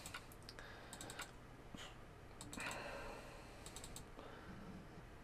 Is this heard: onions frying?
no